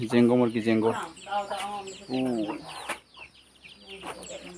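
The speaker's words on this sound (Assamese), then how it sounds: "এইটো জেংগ মুৰ্গী" Chickens cluck in bursts close by, several short harmonic calls overlapping, with someone talking over them at times.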